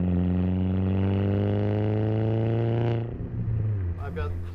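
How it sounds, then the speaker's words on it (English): A modified 2003 Saab 9-3 manual turbo engine drones loud and close with a steady low tone for a few seconds, then eases off, with a short whooshing burst after; a voice speaks over it. "everybody knows how it is when you have a car that makes turbo noises."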